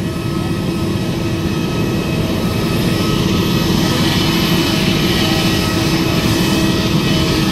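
A loud, steady jet engine roar with a high whine drones continuously from an Emirates airliner at Pune airport, close and unbroken for the whole stretch.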